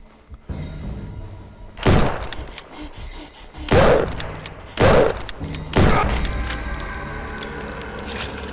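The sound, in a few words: gunshots fired repeatedly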